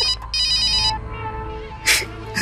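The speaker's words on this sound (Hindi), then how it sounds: "लकी को फोन करती हूँ" An electronic phone ringtone trills in short repeated bursts, fairly close and clear, then stops.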